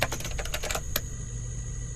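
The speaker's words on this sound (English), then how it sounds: "Okay, with the typing, I get it. Why you got that old keyboard?" Clattering keystrokes on an old computer keyboard, a quick irregular burst of about a dozen clicks followed by one final sharp tap, then a quiet room hum, close and crisp with no talk.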